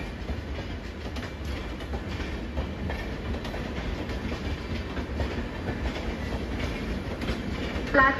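A Mumbai fast local train runs through a station platform without stopping, a steady loud rumble with rhythmic clickety-clack of wheels over rail joints that builds slightly toward the end.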